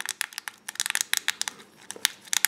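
Buttons on a Fidget Cube are clicked in quick, irregular bursts. The sharp, small plastic clicks come close up and fairly quiet, with short pauses between runs.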